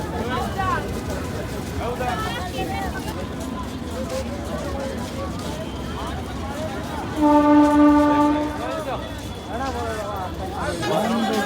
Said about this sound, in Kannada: ಟ್ರೈನ್ ಹೋಗ್ತಾ ಇದೆ ನೋಡಿ ಟ್ರೈನ್ ಹೋಗ್ತಾ ಇದೆ